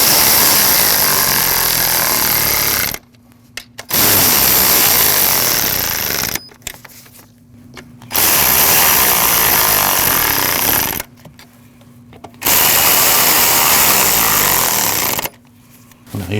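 A power tool snugs the starter bolts on a 2014-2023 Jeep Cherokee. It comes in four loud, sustained bursts with short quiet gaps between them and no talking.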